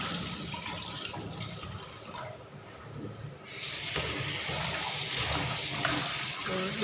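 Tap water runs into a sink while vegetables for a bamboo shoot curry are washed, a splashing flow that dips briefly midway and then resumes fuller and close.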